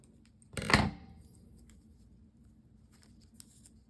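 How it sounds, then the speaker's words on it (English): A single short snip of scissors cutting a sticker sheet, crisp and close, followed by faint rustling and quiet handling noises. "My scissors are sticking to the sticky stuff."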